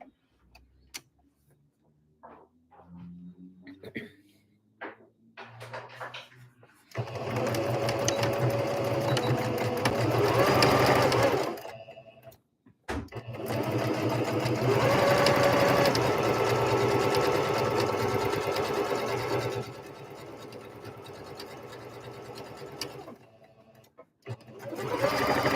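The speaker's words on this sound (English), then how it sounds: "I have my sewing machine, and my sewing machine is really helpful" A sewing machine stitches stuffed doll bodies in long, steady whirring runs of rapid needle ticking, broken by short pauses and a few clicks between passes, loud and close with no talking.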